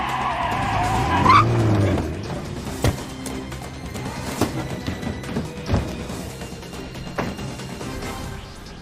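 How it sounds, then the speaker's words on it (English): Cargo truck arriving in the video game Splinter Cell: Pandora Tomorrow, a vehicle rumble with a brief high tire screech near the start, followed by scattered clunks and thumps, moderately loud. "Your ride is just about here. A cargo truck that should get you through security and into LAX."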